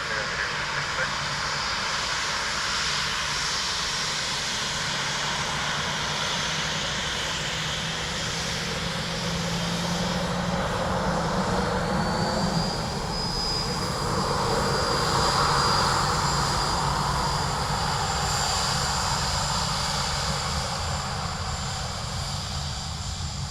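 A Ryanair jet at Dublin Airport produces a steady, loud engine roar that holds through the whole stretch, swelling slightly midway with a faint whine above it.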